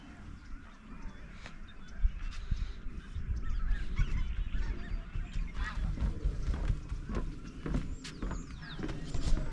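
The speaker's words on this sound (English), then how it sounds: "You hear the birds?" Waterfowl honk and call repeatedly, many geese close by in an irregular chorus over a low background rumble.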